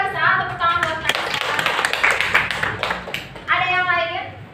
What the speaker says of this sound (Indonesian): tepuk tangan buat Karisa.